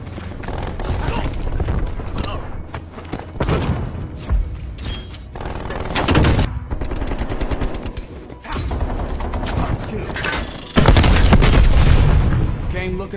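Rapid turret gunfire in the video game Call of Duty Cold War, loud bursts of automatic shots and heavy booms coming in dense runs, with game voices heard speaking between the volleys.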